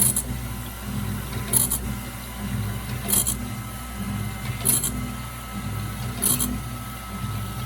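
A BMS 250 blade sharpener grinds along a blade, with periodic bright scraping bursts roughly every 1.5 seconds as it passes the weld joint over a steady mechanical hum; no talking.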